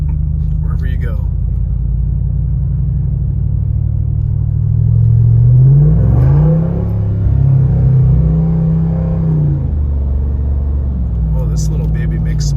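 A 2024 Jeep Wrangler 392's throaty V8 engine rumbles loudly and revs up mid-way, with a deep steady drone and a few faint crackles from the exhaust.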